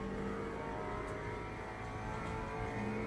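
In the racing game Le Mans Ultimate at Sebring, a race car's exhaust drones at a low, steady level with a constant engine hum and no sharp revving.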